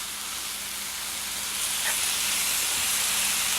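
Steady sizzling hiss from a pork and vegetable stir fry as cornstarch and soy sauce are stirred in, loud and continuous throughout with no voices.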